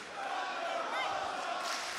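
A wrestling arena crowd roars and cheers for Thunder Rosa during a women's match, a dense, sustained wash of distant voices that swells slightly midway.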